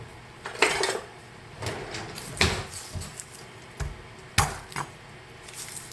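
Garlic smashed on a kitchen counter while cooking roast beef, a handful of sharp, separate knocks spaced irregularly, with no talking.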